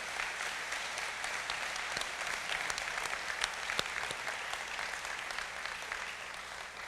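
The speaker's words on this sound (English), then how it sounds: "let's give our council a big round of applause" Steady audience applause for a tribal council at a State of the Nation address, a dense wash of many hands clapping that holds evenly at moderate loudness for the whole span.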